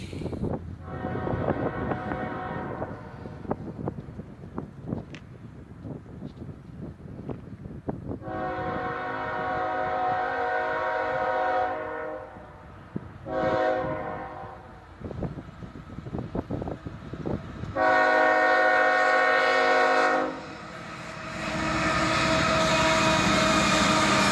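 A pair of CSX locomotives, an ES44AC-H and a Dash 9, lead a Norfolk Southern coal train at a crossing, sounding several loud, sustained horn blasts over the rolling rumble of cars.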